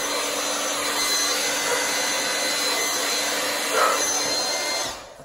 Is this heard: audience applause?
no